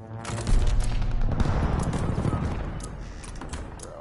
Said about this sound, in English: Hostile right, strafe inbound.